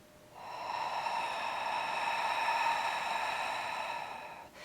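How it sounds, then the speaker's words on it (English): One long, slow exhale during a breathing exercise, with a breathy, airy tone close to the microphone. It rises smoothly, holds for about four seconds, then fades away before a short intake at the end. "Exhale."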